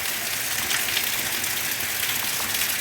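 Heavy monsoon rain pours down steadily, a dense, close hiss of drops hitting surfaces with no pauses and no voices.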